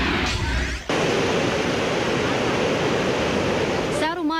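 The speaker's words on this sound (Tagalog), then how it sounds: "Maragas ang tubig na ito sa Cagayan de Oro River." Whitewater of the Cagayan de Oro River rushes in a dense, steady roar that fills the clip, loud and close, with brief breaks near the start and end.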